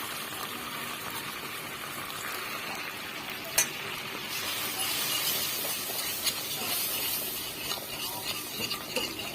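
Flour frying in about two tablespoons of melted butter in a pan, a steady soft sizzle with stirring scrapes and one sharp clink near the middle, no talking.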